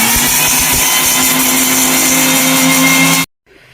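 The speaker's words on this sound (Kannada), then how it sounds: "ಇವಾಗ ಗ್ರೈಂಡ್ ಮಾಡ್ಕೋತಾ ಇದ್ದಾರೆ, ನೋಡ್ತಾ ಇರ್ಬೋದು ನೀವೀಗ." Mixer grinder whirs steadily and loudly while grinding gooseberry, lemon, cumin, salt, mint and ginger, then cuts off abruptly near the end, leaving near silence.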